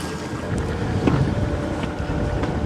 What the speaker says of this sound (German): Aber jetzt ist es sehr windig, ne?